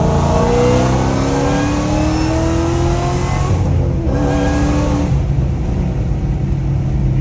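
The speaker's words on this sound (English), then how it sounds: "You definitely hear it more, but my exhaust is so goddamn loud." A loud GT500 engine revs up steadily, exhaust roaring with a rising supercharger whine, then drops briefly and surges again.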